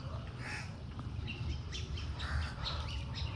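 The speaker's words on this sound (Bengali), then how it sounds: "তো এই কাকটা গত প্রায় 15-20 দিন যাবৎ কখনো এই আম গাছে, কখনো পাশের মেহগুনি গাছে বসে ডাকে।" A crow perched in a mango or mahogany tree caws repeatedly, its calls rising above a steady low outdoor rumble, with no talking.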